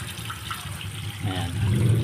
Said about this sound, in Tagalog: Meron pa pala ng tubig yung ating drain.